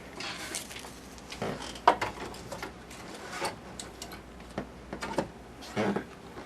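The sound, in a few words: embroidery machine stitching out a design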